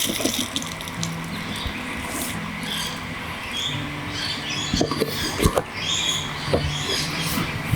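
Cut potatoes for chips are strained at a camp cooking setup, with soft trickling water, wet patter and rubbing of the pieces in a strainer, close and fairly quiet with occasional sharper knocks.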